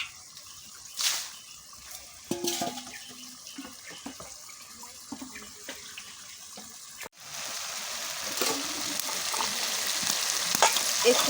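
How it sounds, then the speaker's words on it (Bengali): Taro pieces frying with a little added water in a pan, giving a soft steady sizzle and stirring clatter that grows louder and denser after a sharp jump midway, with no talk. "একটু পানি দিয়ে আমি কচুটাকে ভেজে দিব"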